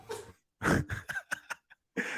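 A man sneezes and coughs in bursts during a podcast recording, several short explosive breaths close to the microphone separated by brief silences.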